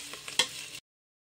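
Onions and tomatoes being stirred and sautéed in a pan for biryani: a brief scrape of a spoon and a soft sizzle, close and alone, ending abruptly in silence.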